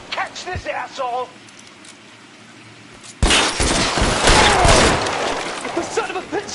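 Gunfire erupts in an L.A. Noire shootout on PS5, a loud, dense burst of shots and crashing debris after a quieter stretch of voices, with talk heard before and during the exchange.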